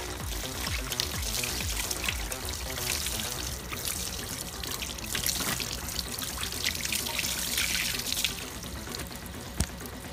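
Water sprayed to rinse degreaser and motorcycle soap off a motorcycle, a close, steady hissing splash that runs unbroken for about ten seconds, with one sharp tap near the end.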